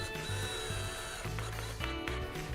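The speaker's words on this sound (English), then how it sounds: "Attach the two together using the screws provided in the kit." A power driver runs screws that join a spring stick extension for an elevator ceiling installation, making short bursts of whirring and ratcheting close by.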